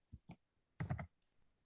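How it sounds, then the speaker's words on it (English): Someone types on a computer keyboard nearby: a few quiet, separate clicks, then a quick denser burst of keystrokes and one last tap, with no talking. "I'm just typing mine out"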